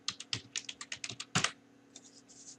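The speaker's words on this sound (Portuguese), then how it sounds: "Pressione as teclas simultaneamente, Windows mais R do seu teclado." Rapid clicking keystrokes on a computer keyboard, typed in short bursts of about a dozen presses with one heavier clack near the middle, then a few softer taps, close and fairly quiet with no talking.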